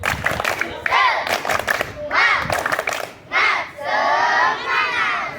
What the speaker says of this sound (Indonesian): Oke, biar semangat kita tepuk semangat dulu.